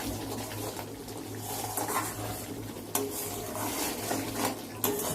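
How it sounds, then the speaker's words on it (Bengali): Mustard hilsa curry is stirred and sautéed in oil in a pan, with a soft continuous sizzle beneath occasional scrapes and taps of the spoon against the metal, close and low. "আমরা আর কিছুক্ষণ একটু কষাবো"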